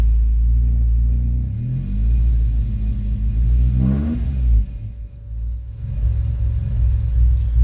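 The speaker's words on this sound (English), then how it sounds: "we're running rich at idle" A carbureted engine running rich at idle, a steady close low rumble with a brief rise and settle in pitch partway through, alone with no talk.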